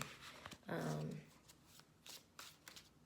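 A Serpentine Tarot deck being shuffled by hand, with one loud riffling burst early on followed by softer, scattered card taps and slides, close and clear.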